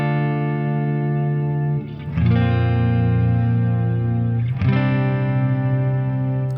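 An electric guitar runs through a worship pedalboard on a dark ambient setting, playing sustained, reverb-washed chords that shift twice as new notes are struck, lush and continuous without pauses.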